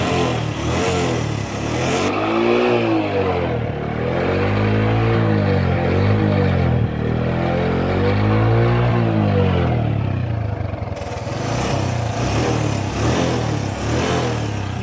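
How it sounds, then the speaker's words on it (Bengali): A second-hand Bajaj CT100 motorcycle engine runs close by, revving up and down in repeated swells with a steady mid-pitched drone, and no one speaks. "ইঞ্জিনের সাউন্ড শুনুন"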